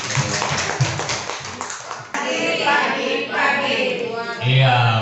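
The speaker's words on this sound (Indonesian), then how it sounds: "Ibu Bapak kita beri tepuk tangan dulu" An audience at a Kurikulum Merdeka teachers' event in Tanjung Duren, Jakarta applauds, a dense burst of clapping hands that fills the room for several seconds with a voice heard over it.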